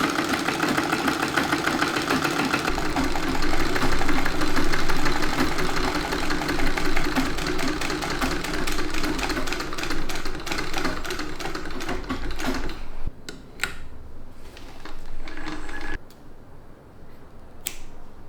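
A home sewing machine stitches fabric for a costume in a rapid, steady mechanical chatter for about twelve seconds, then stops and restarts in short bursts with clicks between, loud and close, no talking.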